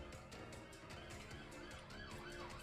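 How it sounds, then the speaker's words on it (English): A police car siren wails outside a window, its rising and falling tone fairly faint and distant, heard through indoor room noise. "Ignore the police car going outside my window."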